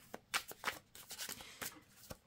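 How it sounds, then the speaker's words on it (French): Tarot cards are shuffled by hand, making quick riffling and sliding flutters close up. Short bursts come one after another, at a moderate volume. "je vais les battre différemment"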